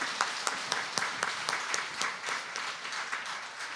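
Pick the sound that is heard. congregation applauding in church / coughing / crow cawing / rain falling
congregation applauding in church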